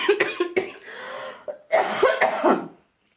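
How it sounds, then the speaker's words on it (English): A person coughs repeatedly in harsh bursts, pausing briefly, then a second cluster of loud, rough coughs before silence. "I'm gonna cough again"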